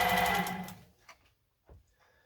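A Singer S201 sewing machine runs with a brief, fast mechanical whir that stops abruptly, followed by a couple of faint clicks and knocks in near silence.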